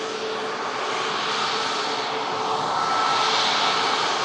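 Airplane on the runway at departure, a loud, steady broadband engine roar that swells slightly toward the end, with no talk.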